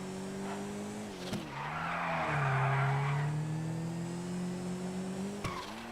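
Tires squeal in a long skid as a car races around a track in GTA 5, with a steady engine drone underneath and brief bumps at either end.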